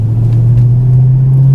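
Steady, loud low exhaust drone from a Chevrolet Camaro SS fitted with an MRT cat-back performance exhaust, cruising in simulated in-town driving, an even rumble throughout with no talk.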